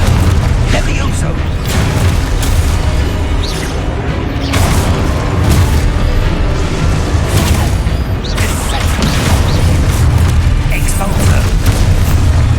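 Expulso explosion spell cast in Hogwarts Legacy, letting off heavy booming blasts that rise out of a dense, continuous wash of loud game sound, with several bursts spread across the stretch.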